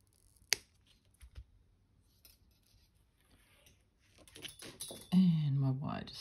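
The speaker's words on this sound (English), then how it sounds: "cut that wire." Wire is snipped with a cutting tool while making a figure 8 chain link, a single sharp click near the start followed by faint handling taps, then a person talks toward the end.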